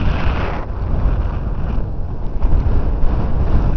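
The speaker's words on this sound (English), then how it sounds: "It's very windy." Strong spring wind in Nebraska buffets the microphone with a loud, continuous rushing roar and gusty low rumbles, with no other sounds.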